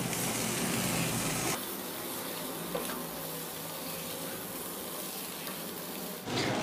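Potato sabzi with fresh coriander and green chilies is stirred in a hot pan. A steady sizzle and scraping continue under light clattering, with no talking.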